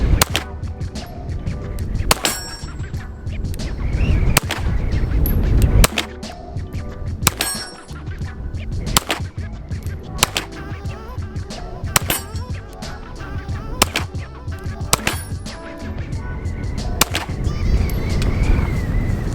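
Shots from a custom CZ P10C pistol fired on a windy outdoor range, a long string of sharp, loud cracks at irregular intervals, each followed by a ringing metallic clang of steel targets, with wind noise between.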